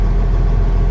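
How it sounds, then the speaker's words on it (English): A semi truck's diesel engine idles, a loud, close, steady low rumble with no voices over it. "I'm gonna idle mine back up"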